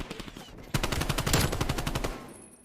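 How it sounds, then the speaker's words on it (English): Rapid wallbang gunfire in an esports Call of Duty match, a dense burst of regular shots cutting in sharply and rattling on for over a second before tailing off, loud and close. "Dashy is just greeted by the wallbang bullets from Classic."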